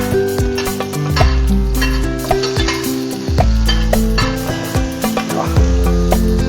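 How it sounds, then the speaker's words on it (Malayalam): Spices sauté in hot oil in a pan after the mustard seeds splutter, giving a loud, close sizzle. Repeated scraping stir strokes and clinks of a utensil against the pan cut through it in an irregular rhythm. "കടുക് പൊട്ടി തുടങ്ങി അതിലേക്ക് നമുക്കിതൊക്കെ ഇടാം. ഇതെല്ലാം ഇട്ട് ഒന്ന് വഴറ്റാം."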